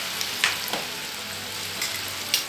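Beef lumpiang Shanghai frying in hot oil, a dense even hiss of sizzling bubbles with a few soft pops and utensil taps, close and without voices.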